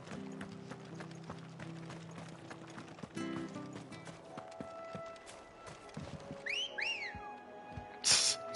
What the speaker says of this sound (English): It's a wolf whistle.